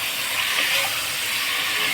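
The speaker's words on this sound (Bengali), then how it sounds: "ঘিটা আমার গরম হয়ে গেছে। আমি এবার মাংসটা দিচ্ছি।" Meat sizzles loudly and steadily in hot ghee, a dense, continuous hiss and crackle from the pan with no talk over it.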